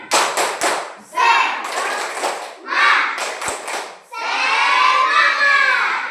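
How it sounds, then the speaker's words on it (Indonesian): Schoolchildren in a mathematics class do a rhythmic spirit clap, with sharp grouped hand claps between loud chanted voices and a final stretch of sustained shouting. "Tepuk semangat."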